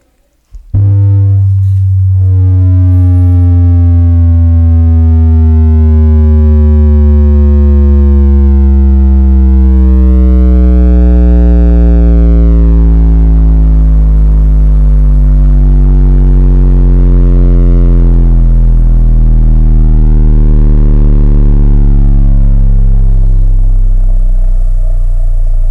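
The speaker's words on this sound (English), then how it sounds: "Look at all that port noise." A loud, steady low test tone sweeps slowly downward through a bandpass subwoofer tower, with a harmonic whistling buzz of port noise rising and falling over it; no voices.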